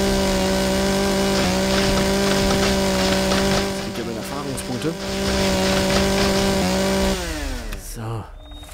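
A chainsaw whines steadily as it saws down a tree in the survival game Empyrion, a loud, continuous buzzing drone that dips in pitch partway through, with someone talking over it.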